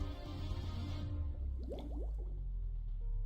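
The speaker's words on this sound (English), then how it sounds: "these sound cues for bubbles" Bubble sound cues in a 3D Metroidvania game give a quick cluster of liquid blips and pops with rising pitch, soft and brief over a steady low background.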